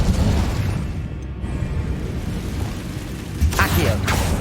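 A fiery Incendio spell blast in Hogwarts Legacy, booming under a dense, loud game soundscape with a sharper burst near the end; no one talks.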